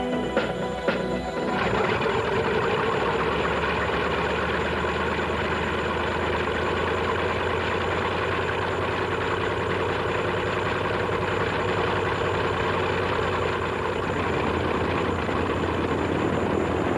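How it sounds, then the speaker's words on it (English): Piston engines of B-25C Mitchell bombers droning on a wartime mission near Rabaul, a continuous loud low engine hum that holds steady throughout with a brief rougher start. "these Mitchells, which appear to be the C model, make their way on one more mission"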